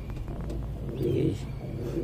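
Pigeons, high-flyer birds kept in a coop alongside chicks, coo softly in a low murmuring rumble close by against a steady background hum, with no talk over it.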